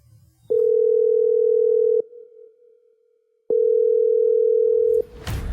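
A telephone dial tone sounds while a call is being placed, two long steady loud tones separated by a short pause, followed by a brief burst of noise at the end.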